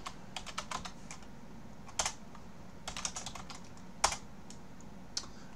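Keys clatter on a computer keyboard as commands are typed into a Linux terminal, irregular bursts of close, crisp clicks with short pauses between runs, no voices.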